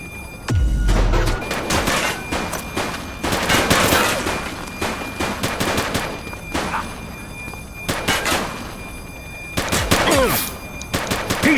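Rapid gunfire from a police shootout in the cop game Precinct rattles in dense, loud bursts of machine-gun fire and single shots across the whole stretch, with brief pauses between volleys.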